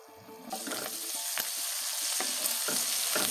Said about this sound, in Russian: Обжарю почки минут 5 до румяной корочки.